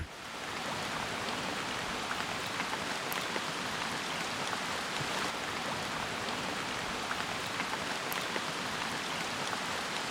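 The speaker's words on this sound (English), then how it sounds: "It's pissing down rain now" Heavy tropical rain pours steadily and densely in the forest, a continuous close hiss of drops with occasional louder splashes, no voices.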